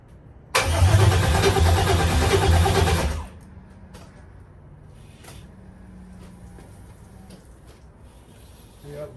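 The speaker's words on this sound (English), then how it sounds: "Literally the first crank with fuel going to the motor." A car swapped with a 6.0 LQ9 V8 cranks on its first start with fuel, a loud grinding starter roar lasting about three seconds, then stopping, followed by quiet shop noise, faint knocks and a low hum.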